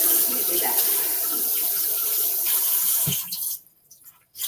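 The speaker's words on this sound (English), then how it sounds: "I don't want to put too much water in there." Tap water runs steadily into a measuring cup for pie dough, a loud, close, continuous rush for about three seconds before cutting off, followed by brief splashes.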